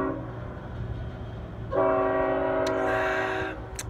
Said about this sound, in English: It's about to be a big train pass by by the sound of it.